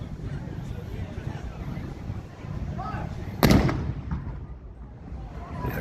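A muzzle-loading cannon fired with a live friction primer at a historical demonstration: one sudden loud boom cuts through steady outdoor wind and background chatter, then a short rumbling decay.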